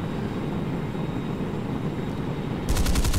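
Four nose-mounted 20mm cannons on an F9F Panther jet fire in a video game, a sharp rapid burst near the end that cuts through the steady roar of the aircraft engine.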